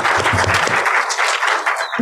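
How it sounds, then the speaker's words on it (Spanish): Closing applause from an audience at a pedagogical centre launch ceremony, thanking the speakers: a dense, loud burst of many hands clapping together that continues evenly and thins slightly toward the end. "un aplauso final para nuestros ponentes"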